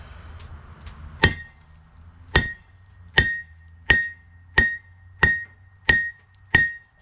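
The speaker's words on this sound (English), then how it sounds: "It's awfully loud beating on the heel." A hammer beats on a steel rack corner set on a heel, eight loud ringing metallic blows at a steady, slightly slowing pace, each with a short clanging ring, with no talk.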